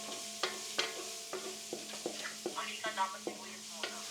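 Onion frying with garlic in a pan for pancit, stirred with a spoon: repeated close clinks and scrapes come in an uneven rhythm over a soft, continuous sizzle.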